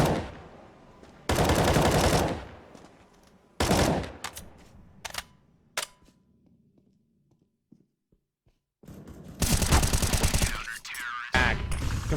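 Heavy automatic gunfire bursts ring out during a competitive esports shooter match in the ESL Challenger League, loud sustained sprays broken by single shots and short gaps, with a caster's voice faintly underneath.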